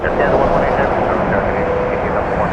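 A WestJet Boeing 737-800 airliner lining up on the runway, a continuous deep engine rumble and drone heard from a distance, with a voice talking over it.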